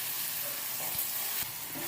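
Chopped vegetables with bell pepper hiss and sizzle steadily while being sautéed in a hot pan, a close, constant frying sound with light stirring and no speech.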